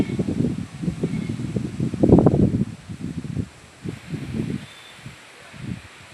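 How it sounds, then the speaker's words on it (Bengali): Strong storm wind gusts through a pointed gourd (potol) vegetable garden, a loud, low, rushing roar with surging and easing bursts, one heavier swell near the middle, and no voices. "প্রচণ্ড ঝড় হচ্ছে।"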